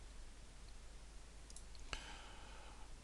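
A single sharp click of a computer mouse, crisp and near, stands out once against a faint steady hum.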